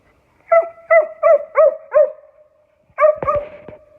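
A dog gives a burst of five sharp, evenly spaced barks, then pauses before two or three more close, loud barks, with no talk over them.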